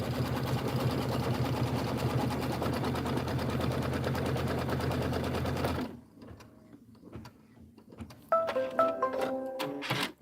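An embroidery sewing machine runs a fast, steady buzzing stitch for about six seconds while tacking down a placement on a quilted gingerbread wall piece, then stops, leaving quieter clicks and a few tonal beeps.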